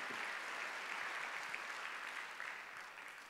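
Congregation applauding during a Sunday worship service in a Korean church, a steady wash of many hands clapping at a moderate distance, continuous and fairly even, with no talk over it.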